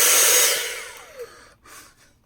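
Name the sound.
Dyson V6 cordless vacuum motor briefly running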